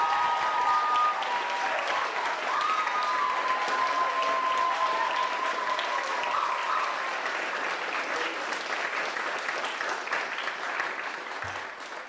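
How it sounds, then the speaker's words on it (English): A school audience at a creative writing reading gives steady, sustained applause for the student readers, even and full for about twelve seconds with no voices over it. "Could we give all of our readers another round of applause"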